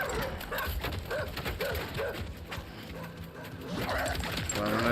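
Several dogs bark and whimper in the video game Death Stranding 2, a rhythmic run of yaps over a constant mechanical drone.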